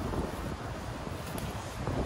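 Wind blowing into a microphone outdoors while wild garlic flowers are gathered, a dense, steady rumbling roar that buffets throughout, loud and close, with no voices.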